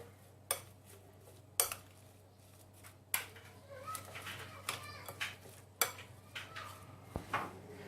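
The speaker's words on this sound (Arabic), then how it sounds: "كنخلط هاد المكونات مزيان" Burger mixture with coriander, parsley and spices being mixed in a bowl, giving a series of sharp utensil clinks and scrapes against the dish at an irregular pace, close and fairly quiet.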